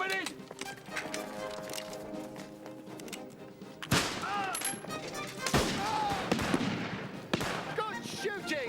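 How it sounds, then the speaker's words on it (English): Rifle volleys crack out in a battle scene, several sharp broadband shots at irregular intervals amid shouting voices and chaotic noise, loud and close. "Good shooting, Sharp!"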